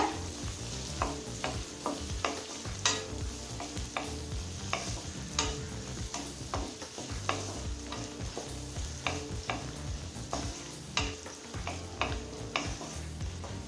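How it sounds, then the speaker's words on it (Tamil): Brinjal sizzles gently in a pan as it is sautéed for brinjal rice, with a spatula or spoon repeatedly scraping and tapping the pan in an irregular rhythm over a soft background hiss. "இது கூடவே நம்ம 1/2 கப் கத்திரிக்காவை சேர்த்துக்கலாம். ஒரு நிமிஷம் வரைக்கும் நல்லா வதக்கிக்கலாங்க"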